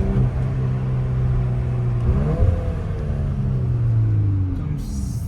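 A Volkswagen Golf 8 R four-cylinder engine with an Akrapovic exhaust drones steadily from inside the car, a muted low hum that rises briefly in pitch midway, as if revving slightly, then settles.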